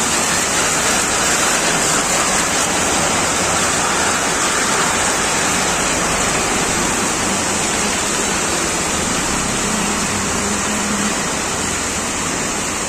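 Heavy monsoon rain pours steadily onto a street in Virar, a dense, unbroken hiss of close, loud downpour lasting throughout with no pauses or voices.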